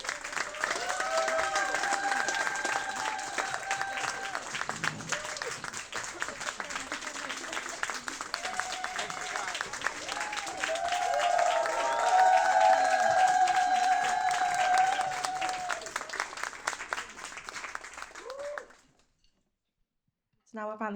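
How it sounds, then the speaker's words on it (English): An audience at a Stanford graduation ceremony gives the graduates a sustained round of applause, dense clapping that swells near the middle and stops abruptly at the end, with a few voices mixed in. "Please join me in giving our graduates one final round of applause"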